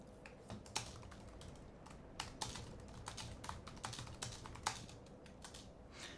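Fingers type on a computer keyboard in quick irregular bursts of light clicks, close but quiet, a few louder keystrokes standing out, with no one speaking.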